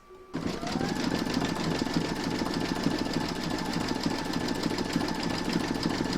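An embroidery machine stitching a puffy foam keyring in a hoop starts up and runs at a fast, even mechanical chatter, close and loud, humming steadily to the end.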